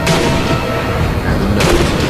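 A sniper rifle shot in the video game Sniper Elite, a heavy booming report with a rumbling tail, followed by a second sharp blast near the end.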